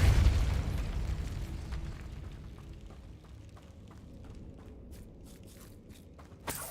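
A Depulso spell cast in Hogwarts Legacy, starting with a loud low boom that fades into a quieter rumbling tail over several seconds, with faint clicks and one small sharp hit near the end.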